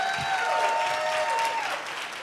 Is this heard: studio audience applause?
yes